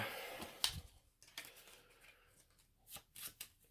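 Playing cards being shuffled by hand during an Arkham Horror board game, a few soft riffling and snapping bursts spaced apart, quiet and close.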